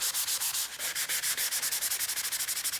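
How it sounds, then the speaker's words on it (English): Sandpaper rubbed by hand over a wooden banister room divider, smoothing filled patches along the grain, a close, loud, rapid back-and-forth scratching in a steady rhythm of short strokes without pause. "with part of your sandpaper on this outer edge so it acts as a level"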